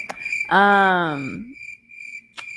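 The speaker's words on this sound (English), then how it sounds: "Could I get the cricket sound effect?" A cricket-chirp sound effect plays as a single drawn-out trill amid a podcast's background hum, loud and close, followed by a brief quieter chirp.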